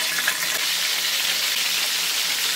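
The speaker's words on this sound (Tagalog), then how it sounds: "Prito muna tayo ng fish." Fish frying in a hot pan, a loud, dense, continuous sizzle and crackle heard up close and on its own, with no voices.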